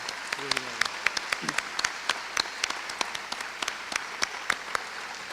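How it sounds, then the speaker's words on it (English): Audience applause at the Will Rogers Hall of Fame induction ceremony, a steady patter of many hands in a hall with scattered sharper claps and a brief voice early on. "Would you please stand just for a round of applause?"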